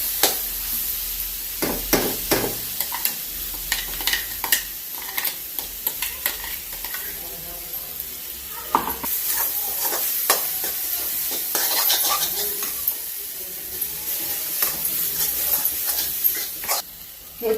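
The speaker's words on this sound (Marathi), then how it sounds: "आणि आता ही पेस्ट घालूया, भरड घालूया याची वाटाण्याची, आणि 5 मिनिटं परतून घ्यायचं" Coarse green pea paste sautés in a pan, with steady sizzling and hissing broken by repeated scraping and stirring strokes, loud and close, with no talk.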